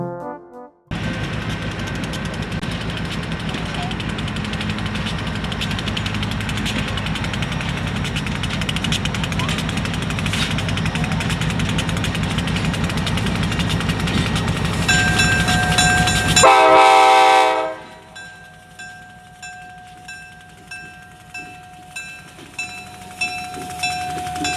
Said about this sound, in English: We first see the train as it pulls into the park to pick up the passengers waiting aboard.